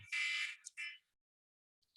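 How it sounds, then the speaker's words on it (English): An alarm goes off during a math lecture, giving two short bursts of harsh electronic buzzing, then near silence before a brief final chirp. "My alarm went off."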